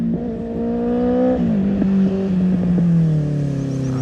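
A superbike engine idles loudly nearby, then dips and rises in pitch as it is revved, its tone steady and droning.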